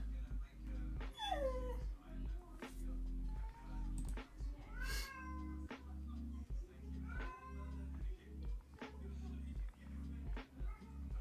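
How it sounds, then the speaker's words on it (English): A cat meows repeatedly in a kitchen, with several rising and falling calls scattered over a steady low hum and background game sounds, moderately close and fairly faint. "There is an awful lot of meowing coming from that kitchen."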